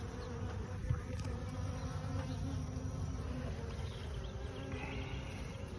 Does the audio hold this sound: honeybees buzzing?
yes